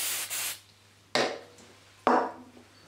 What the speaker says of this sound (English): spray the activator.